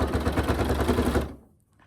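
A sewing machine runs fast stitching a straight line on a quilt, giving a loud, close, steady rapid mechanical chatter that stops abruptly near the end, leaving near silence.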